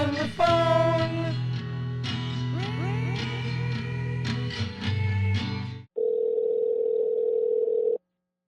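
A telephone line during a prank call gives a string of harmonic dial and ring tones, then a flat steady tone holds for about two seconds before stopping abruptly, with no voices.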